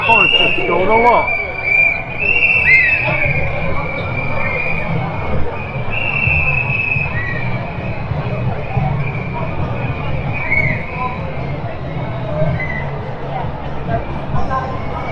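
A large crowd at the Nottingham Pride procession makes a dense, steady murmur of many voices close around, with a whistle and scattered cheers over the babble and voices talking throughout.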